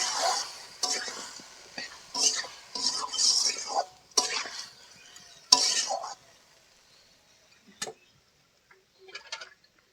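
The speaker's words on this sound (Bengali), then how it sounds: "তারপরে দিব হলুদ গুঁড়া ভালোভাবে মিশিয়ে নেব" A utensil stirs salt and turmeric powder into a pan of egg, Malabar spinach and red lentils, with bursts of scraping and clattering against the metal, then pausing into near silence with a few last taps.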